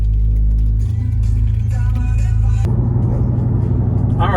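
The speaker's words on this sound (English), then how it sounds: "we are now in my vehicle, the Cammed RT, and we're gonna give it a little drive around" Engine of a cammed Chrysler RT car driving on the road, a loud low rumbling drone from inside the cabin that steps up in revs partway through and carries a choppy, uneven idle-like pulse.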